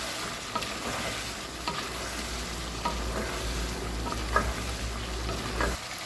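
Tomato and coriander curry being stirred in a pan, with a steady low sizzle and scattered clicks and scrapes of the spoon against the pan, close and continuous with no talk.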